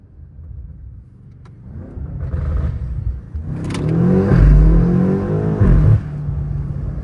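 BMW M8 Competition with a catless downpipe and Eventuri intakes revs up from idle, building to a loud, deep, rising roar that holds and then drops back, close by.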